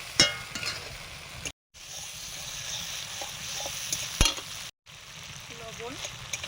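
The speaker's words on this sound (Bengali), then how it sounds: "ঝাল লঙ্কার গুঁড়ো, একটু জল দিয়ে মশলাটা কষে নিচ্ছি।" Spice paste of hot chili powder and a splash of water being sautéed in a pan, a continuous close sizzle with a couple of sharp spatula knocks and brief silent gaps.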